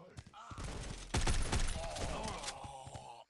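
Sniper rifle gunfire in a competitive multiplayer shooter video game: a dense burst of loud shots and impacts mixed with other game sounds, with faint voices underneath.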